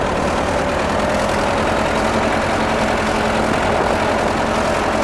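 A Ford tractor converted into an amphibious vehicle runs its engine at a steady, loud idle, a continuous low rumble with no voices and no change in pace.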